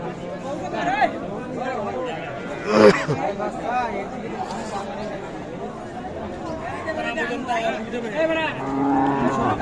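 Cows with calves low and moo amid a busy cattle market crowd, with people chatting nearby; one louder call stands out near the middle.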